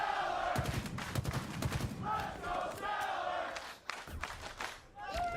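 Esports crowd at a Halo Championship Series event cheering for a player, a loud roar with chanting rising and falling over about five seconds, mixed with game gunfire and a commentator talking.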